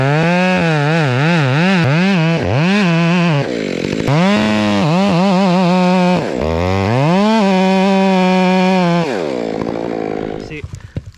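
Stihl chainsaw running a Hexa chain cuts into a standing tree, loud and close, its pitch repeatedly dipping under load and rising again across several bursts before throttling down at the end.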